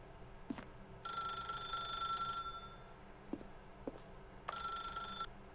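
A telephone rings in The Stanley Parable: Ultra Deluxe video game, two clear electronic ring bursts, each about a second long, separated by a pause, with faint clicks between them and no talking.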